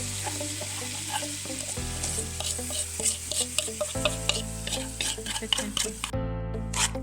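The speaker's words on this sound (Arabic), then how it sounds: "تظلون تحركون حتى يتلابس الزبد ويا المكونات الجافة" Butter, cocoa, sugar and milk stirred together in a pan over low heat, a spoon scraping and tapping the pan steadily under a soft continuous sizzle.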